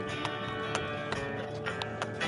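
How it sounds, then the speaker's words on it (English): A horse's hooves clip-clop at a steady riding pace, with regular light strikes spaced about every third of a second, moderately near over faint background noise. "He likes to ride around on his horse"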